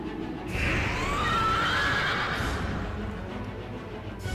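Horse neighs once in World of Warcraft, a loud rising whinny that carries over a steady game background, followed by faint trailing sound.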